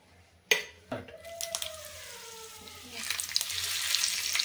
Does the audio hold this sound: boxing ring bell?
no